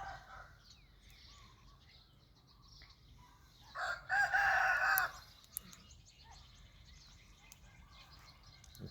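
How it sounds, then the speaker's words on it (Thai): A rooster crows loudly in a neighbouring yard in the Thai countryside, one sustained call in the middle of the clip, with hens around and a steady outdoor background. "ไก่สวนข้างๆ บ้านข้างๆเริ่มมาหากินแล้ว"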